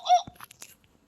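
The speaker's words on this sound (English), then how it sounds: "You will know it is time to turn the page when you hear the jungle bird call" A short jungle bird call used as a page-turn cue in a Jungle Book read-along, one bright warbling chirp followed by a few quick clicks and blips, close and alone.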